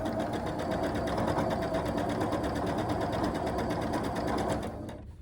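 A home sewing machine, idle for a week, runs at steady speed with a rapid needle rhythm and an odd extra mechanical noise, loud and close, before stopping abruptly near the end.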